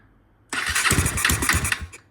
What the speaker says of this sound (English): We're gonna go ahead and pop the tank on the bike and see if it starts.